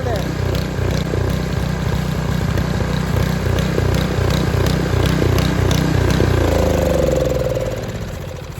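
A Craftsman 6hp snowblower engine runs loudly and steadily up close, with a churning, rattling chop as branches are pulled through the auger, then the engine note drops and winds down near the end.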